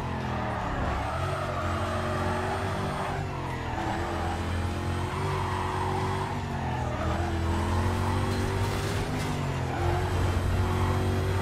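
Race car engine from Need for Speed Carbon roars steadily at high speed, with shifting engine harmonics rising and falling, loud and close throughout with no talk.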